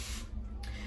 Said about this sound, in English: Of course, got to spray it. This aloe vera water.